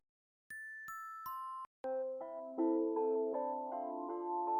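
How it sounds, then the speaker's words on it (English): Layered electronic bell tones for a hip-hop beat, single chimes struck one after another and then stacked into a ringing chord melody that sustains in a steady rhythm, clean and prominent with no voices. "Layer some more bells"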